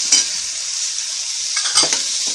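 Chopped onions and tomatoes sizzle steadily in a pan as a spoon stirs them, with a few clearer scraping strokes near the start and toward the end; no one speaks.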